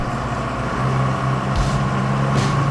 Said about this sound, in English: Well, I'm driving a tank.